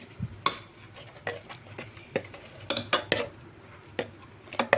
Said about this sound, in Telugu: మనం ఇక్కడ ఉడికించుకున్న పప్పులో వేసేసుకొని కలుపుకోవాలి